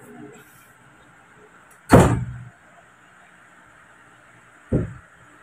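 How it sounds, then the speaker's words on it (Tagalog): A door in an old ancestral house swings shut with one loud, close thud, followed a few seconds later by a second, softer knock, set against quiet room tone. "Sarado natin pinto."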